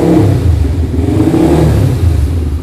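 A Yamaha Vixion motorcycle engine revs steadily at close range, a loud, continuous mid-pitched drone with small surges in throttle and no pauses, heard alone at night.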